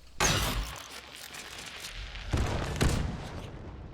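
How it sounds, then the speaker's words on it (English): Explosions in the video game Hunt: Showdown, from bomb lances, explosive harpoons or frag charges: two loud booming blasts a couple of seconds apart, each rumbling away, with a smaller crack between them. "All explosions, which includes bomb lance, explosive harpoons, and wax frag charges,"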